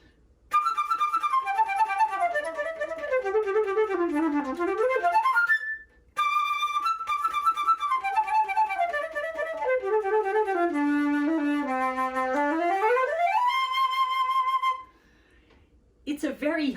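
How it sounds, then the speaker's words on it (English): A shiny concert flute plays a short high melody of sustained and sliding notes, clear and close, with one brief breath gap near the middle and a pause near the end. "I'm going to play a little bit of music for that part on my flute"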